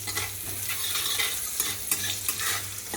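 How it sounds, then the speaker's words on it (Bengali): Broccoli with a little salt frying in a pan over a low flame, a steady close crackling sizzle with faint stirring scrapes throughout, no voices. "এটা ততক্ষণ লো ফ্লেমে ভাজা হোক।"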